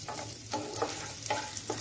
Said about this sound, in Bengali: একটু হালকা নারকেল কুচি ভেজে নিয়ে তারপর সবজিগুলো দেব।